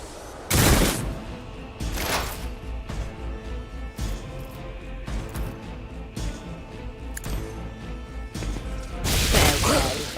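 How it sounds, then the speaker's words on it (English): Grenade blast and gunfire in Rogue Trader, a Warhammer 40k video game: two loud bursts open and close the passage, with scattered impacts and shots between them, all at close range. "Did you just put a grenade under me or something?"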